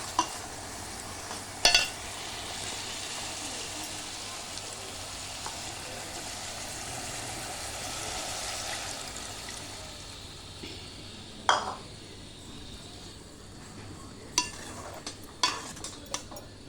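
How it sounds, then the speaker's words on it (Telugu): Tamarind juice poured into a pan of brinjal and dried fish curry, a hissing sizzle and liquid rush giving way to a few scrapes and knocks of a stirring spoon against the pan. "ఇప్పుడు చింతపండు పులుసు పోసాను"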